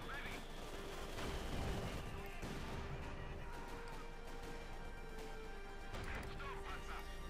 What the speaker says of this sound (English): Goes with Bren guns and light machine guns turning to those Tommies.